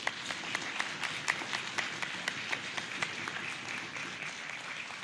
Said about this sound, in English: let's hear a round of applause for yourselves and the veterans tonight